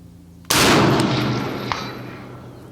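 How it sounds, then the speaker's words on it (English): A 6mm ARC rifle fires a single sharp, loud gunshot that cracks suddenly and rings out in a long fading outdoor echo, followed by a faint click. "I'm gonna aim roughly at one of these piggies and not be watching when I take the shot."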